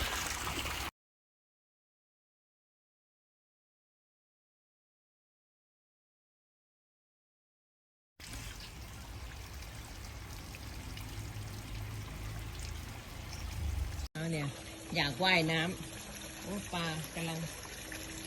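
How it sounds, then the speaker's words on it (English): Water from a newly built garden pond waterfall pours and trickles steadily at close range, broken by a long stretch of silence partway through and followed by some muffled voice-like sounds. "We got the waterfall working."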